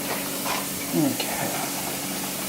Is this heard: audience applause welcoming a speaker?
no